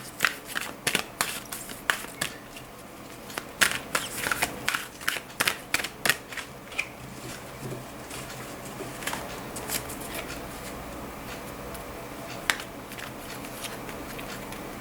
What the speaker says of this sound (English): Extremely big deck, beautiful one, but very difficult to shuffle.